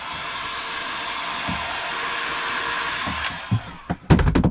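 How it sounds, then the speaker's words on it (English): A hair dryer blows steadily for about three seconds on shrink tube during wooden boat wiring work, a close, even whooshing hum that cuts off before a few knocks and clunks. "Hairdryer."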